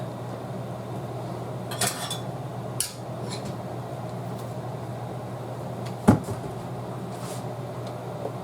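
A cooking pot is pulled out and set down in a home kitchen during canning prep, a few sharp metallic clanks and knocks spaced over a low steady background hum, no talk.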